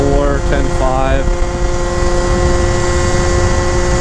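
70cc Yamaha Zuma scooter with a Stage 6 Minarelli setup and tuned CVT, engine held high near 10,000 RPM in a steady loud drone, with someone talking over it at the start.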